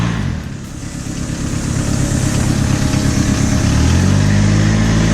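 A Peugeot 306 on a test drive after its rear axle was changed with solid mounts: a loud, continuous engine drone that swells and climbs in pitch toward the end as it revs. No voices are heard.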